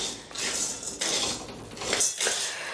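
Chana dal dry-roasting in a pan over medium heat, stirred with a utensil that gives dry rattling scrapes and clinks against the metal in several close strokes, no voices.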